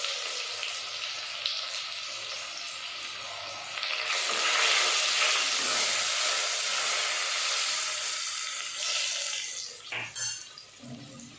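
Cumin, ginger and garlic paste hitting hot oil in a pan for tamarind kadhi, a loud close sizzle that swells after a few seconds, holds steady, then breaks into clattering stirring noises near the end.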